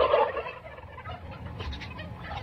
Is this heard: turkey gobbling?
yes